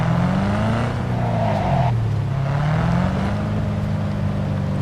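A car engine in Cyberpunk 2077 drones loudly and steadily throughout, its pitch rising and dipping as it revs.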